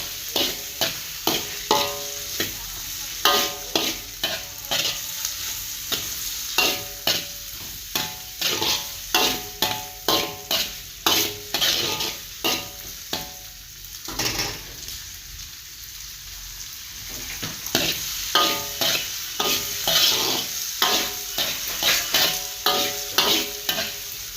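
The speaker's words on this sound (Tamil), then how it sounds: "போட்டு அதையும் கிண்டிக்கிங்க நல்லா சரியா" Curry with beans being stirred in a pan, a steady rhythm of repeated scraping strokes close up over a soft sizzle, pausing briefly midway before the stirring resumes.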